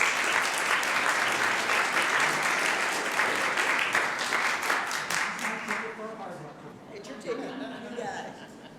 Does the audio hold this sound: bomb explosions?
no